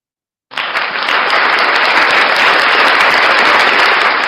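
Audience at a breakfast show applauds a band, bursting in suddenly after a moment of silence and holding as dense, loud, continuous clapping to the end.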